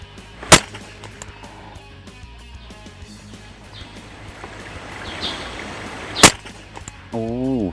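Two sharp rifle shots fired through an ED-AR 1-6x24 scope at about 80 metres, each a loud crack several seconds apart, with quiet outdoor ambience between and a brief voice at the end.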